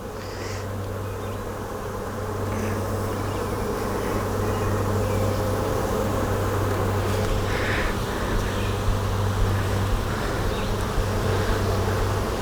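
Honey bees swarm around an open hive during a brood-frame inspection, producing a dense, continuous buzzing drone close to the microphone that swells slightly after the first couple of seconds and holds steady, with no talking.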